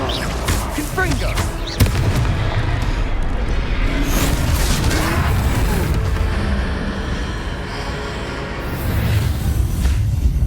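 Confringo fire spell blasts in the Hogwarts Legacy video game, loud booming bursts layered over dense game music and effects, with a sharp impact near two seconds and another swell toward the end.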